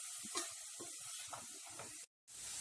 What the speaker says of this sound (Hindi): प्याज को अच्छे से भून लें, इसका थोड़ा कलर चेंज होने तक।